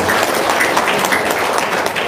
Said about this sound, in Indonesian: Tepuk tangan dulu untuk Haji Marco